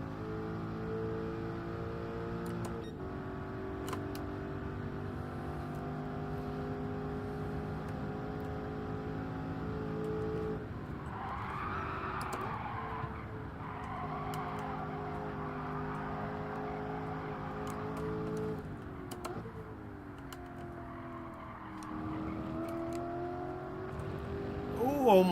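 A race car engine in the Gran Turismo 7 racing game holds a steady, droning whine, with pitch dipping and climbing through gear changes and cornering, moderately loud and continuous with no talk.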